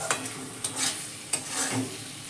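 Egg bhujia is stir-fried in a pan, a close sizzle broken by a few sharp spatula scrapes and knocks against the metal, no talking.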